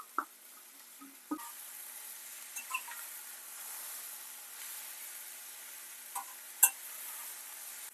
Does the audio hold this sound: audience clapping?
no